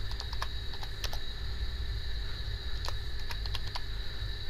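Typing on a computer keyboard while text is entered into an app's design form, producing sharp, irregular key clicks in small bursts over a steady background hum.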